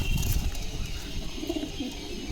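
Madras breed pigeons cooing close by, soft low throaty coos over a faint background hum, with no talk.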